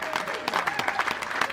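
Audience applause after a live sea shanty performance at a celebration of sea songs and shanties in Yarmouth, a steady dense patter of clapping with crowd noise mixed in, fairly close, and no voices standing out.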